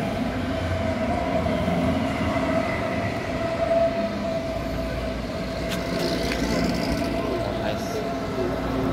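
An S-Bahn commuter train rolls past close by with a steady loud rumble and a sustained wheel hum, with a few faint rail clicks toward the end and some background voices.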